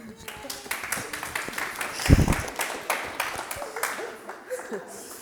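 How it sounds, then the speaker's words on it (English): Scattered audience clapping at a training session, thinner and uneven, with individual claps standing out, alongside chatter and a chuckle from the group. "Round of applause."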